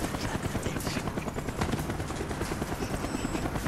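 Helicopter in the Call of Duty Black Ops video game, its rotor thumping in a fast, steady pulse that runs continuously and fairly close for several seconds, with nothing else heard.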